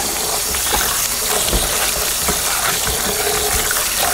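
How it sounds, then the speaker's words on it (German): Cold tap water gushes steadily over freshly cooked spinach being rinsed in a kitchen sink, a continuous close hiss of running water at even strength with no talk. "Und ein bisschen abschrecken mit kaltem Wasser, damit er uns nicht zu lange kocht"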